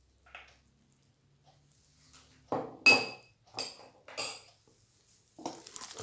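Semolina, eggs and baking powder being mixed in a bowl, with a few scattered clinks and scrapes of a utensil against the dish, arriving in short bursts with quiet gaps between.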